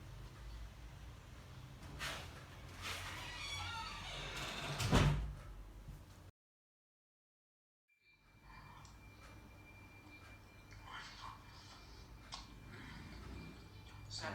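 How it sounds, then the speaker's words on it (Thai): An indoor door is closed at night with a loud close thump after a brief rustle, followed by silence and then faint room noise with small knocks. "เดี๋ยวปิดประตูให้"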